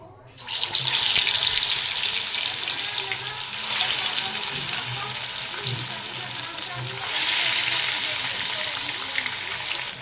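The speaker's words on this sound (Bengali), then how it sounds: "এবারে লবণ হলুদ মেখে রাখা মাছগুলো ভেজে নেব।" Rohu fish pieces rubbed with salt and turmeric hit hot oil in a pan, bursting into loud, bright sizzling that swells again partway through and stays strong and close, with no talk.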